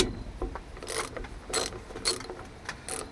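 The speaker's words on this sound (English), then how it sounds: "I'm going to go get my ratchet. I'm going to break this loose." A hand ratchet works loose a rear brake bolt on a 1992 Nissan pickup, giving several short bursts of clicking with pauses between them, close and fairly loud against faint background noise.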